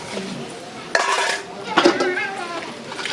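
Pots and metal utensils are being washed up close, with intermittent clanks, scrapes and clinks of cookware knocking together and a faint voice in the background.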